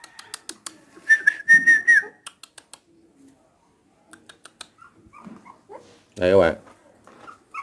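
Newborn puppies give thin, high whines and whimpers in short bursts among scattered clicks and a whistle, while someone talks nearby.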